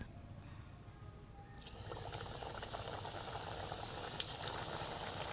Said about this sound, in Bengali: এদিকে কড়াইতে কিন্তু তেল বসিয়ে দিয়েছি, তেলটাও হালকা গরম হয়ে গেছে। চলুন এবার নাস্তাগুলো তেলের মধ্যে দিয়ে দিই।